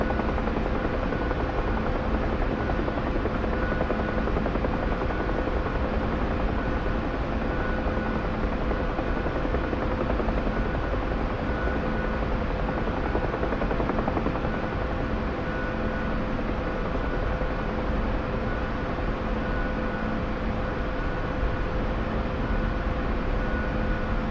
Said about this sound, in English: Got a Chinook landing.